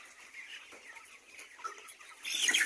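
Young chicks in a poultry farm shed, a faint continuous chorus of high cheeping that grows louder at the end, with no voices.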